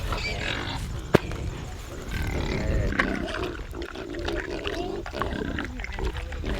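Low grunts and snorts from pigs mixed with rustling and a noisy barnyard background, with one sharp knock early on.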